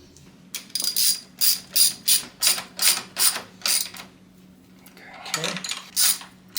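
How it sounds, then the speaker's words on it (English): Ratchet wrench tightening the two 12 mm bolts of a Black Widow exhaust on a Yamaha XSR900, with about ten rhythmic clicking bursts of ratcheting. A short pause and a faint metallic clank come before a few more strokes, close by and with no talk. "now we're going to tighten these two 12s while holding the back with a box end wrench"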